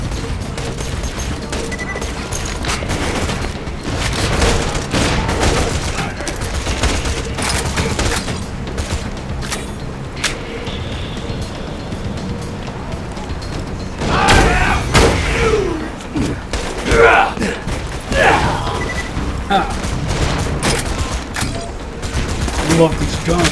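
Rapid gunfire and explosions from the shooter game Borderlands 2, with dense bursts of shots and crashing impacts that swell loudest in the second half, mixed with voices.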